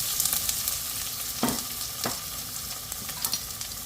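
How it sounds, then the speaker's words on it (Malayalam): Chopped onion, ginger and green chili fry in a hot pan, giving a steady close sizzle with a few brief stirring scrapes and no talk. "നമുക്കതിലോട്ട് അരിഞ്ഞിട്ട് സവോളയും ഇഞ്ചിയും പച്ചമുളകും കൂടി ചേർക്കാവേ"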